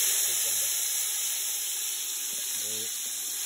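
Tomato and onion fry in oil that was already used for frying onions, giving a steady, bright sizzle with a hissing texture throughout. Faint voices murmur underneath.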